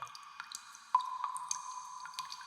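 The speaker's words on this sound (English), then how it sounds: "thousands of water droplets hitting the floor, echoing like in a cathedral" Water droplets drip steadily onto the floor of Belize's ATM cave, faint irregular plinks spread through quiet darkness with a ringing, echoing tone and no voices.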